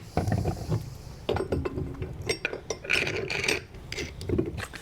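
A wheel goes onto a black trailer jack stand for a Malone MicroSport tent trailer, producing close metallic rubbing, ratcheting clicks and scraping in uneven bursts with no talking.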